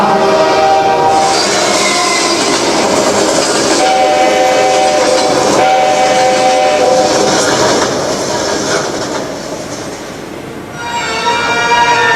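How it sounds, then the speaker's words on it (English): A steam train passes close by, its rumbling rail noise and clatter carrying steadily throughout, with a sustained whistle sounding in the middle and again near the end before the roar briefly eases. "The train is coming."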